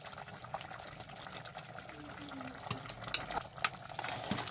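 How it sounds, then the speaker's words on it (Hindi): Tomato and onion being fried in ghee for a rich beef gravy, a quiet, low crackle with a few sharper clinks and scrapes of stirring toward the end. "और इसे अच्छी तरह भून लेंगे।"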